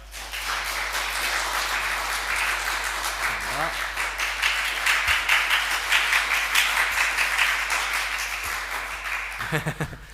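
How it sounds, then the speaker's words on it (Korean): Church congregation clapping during a deacon ordination service at a Korean church, sustained crisp applause from many people over a low steady hum, with a brief spoken thanks near the start. "박수로 화답해 주시면 감사하겠습니다."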